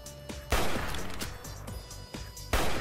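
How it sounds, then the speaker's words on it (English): Gunshots from the video game Fallout New Vegas come as a few loud, booming blasts spaced apart, each with a short ringing tail. One sounds near the start, one mid-way and one near the end, with no talking. "I can't shoot this motherfucker worth a damn"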